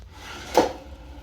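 A pre-assembled bathroom vanity drawer with soft-close runners glides shut with a single muted wooden thump near the close, heard alone in a quiet room.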